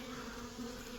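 A honey bee swarm gathered on a fence gives a dense, continuous buzz, close and steady, with many wings blending into one droning hum and no voices.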